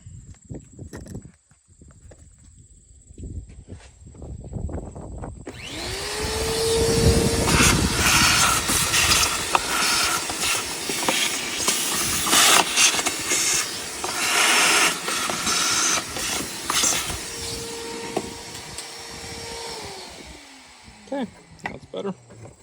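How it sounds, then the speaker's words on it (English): A vacuum motor whines up and roars steadily with rattling, crackling grit being sucked out of a car engine area during an oil change, then winds down near the end. "a little bit of debris, so we're gonna vacuum that out"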